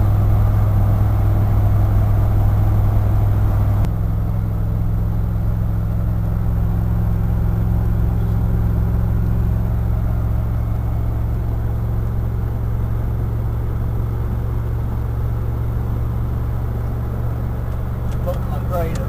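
Wood gas powered vehicle driving, its engine giving a steady low rumble throughout, with a shift in tone after a few seconds; someone talks over it.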